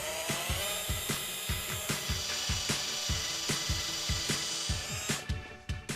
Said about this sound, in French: Reste plus qu'à faire le petit trou en dessous avec une mèche beaucoup plus grosse pour pouvoir faire passer le fil